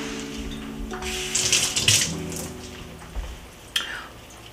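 Water runs from a kitchen tap over peeled garlic for a few seconds in a soft, steady splash, with small louder spurts as the cloves are moved under the stream.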